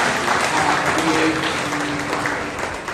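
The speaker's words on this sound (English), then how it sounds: "Let us clap for all those who always come." A prayer-meeting congregation clapping together, a dense burst of applause that tapers slightly toward the end, with a few voices mixed in.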